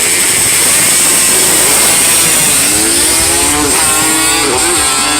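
A junior drag bike engine accelerating hard down a drag strip, loud and close, a high buzzing roar with rising pitch sweeps as it climbs through the gears, no talk.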